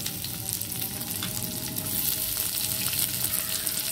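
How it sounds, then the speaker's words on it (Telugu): Finely chopped garlic and onion pieces sizzle in hot oil in a pan, a dense, even crackle that continues without pause and slowly swells louder. "అదే ప్యాన్లో కొంచెం నూనె ఉంచుకొని వెల్లుల్లిపాయ ముక్కలు వేసుకోవాలి, సన్నగా తరిగి. అలాగే ఉల్లిపాయ ముక్కలు"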